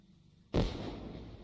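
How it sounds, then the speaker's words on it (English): A firework going off in the online game Lord of the Rings Online, a sudden loud bang about midway followed by a long rumbling, crackling tail. "Oh, there goes the firework. Are they gonna have a fireworks show in the morning?"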